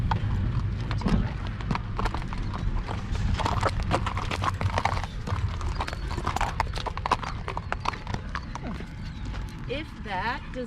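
Horse hooves clip-clop steadily on a western trail ride, a continuous close rhythm of hoofbeats running beneath a person talking throughout.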